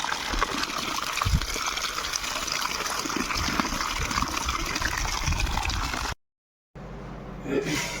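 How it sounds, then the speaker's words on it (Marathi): Mangoes are washed in water, with continuous splashing and trickling close by, a brief cut to silence, then more water sounds resuming. "आता ह्यात ते लाकडाची घाण निघत होती त्याच्यामुळे आंब धुवावं लागते ते आणि धुवून चांगलं वाळू घालायचं."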